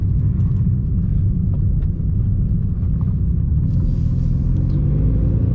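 A loud Mitsubishi Evo 8 during dyno tuning gives a deep, steady engine rumble that drones on without break, close and heavy throughout.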